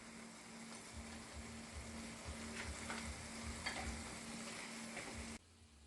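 Escovitch sauce with sugar, salt and pimentos sizzling steadily over low heat in a pan, a continuous close frying crackle with faint stirring scrapes, cutting off just before the end.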